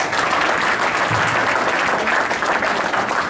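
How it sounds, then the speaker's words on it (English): Town hall crowd gives a full, continuous round of close, loud applause for John, with many hands clapping evenly throughout. "please give John a round of applause"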